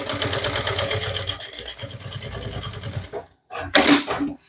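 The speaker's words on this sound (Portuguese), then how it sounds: "Isso aqui dá pra costurar devagar." A sewing machine stitches a fabric bag, running in a fast, rhythmic, mechanical whir that stops briefly and then bursts again for a moment.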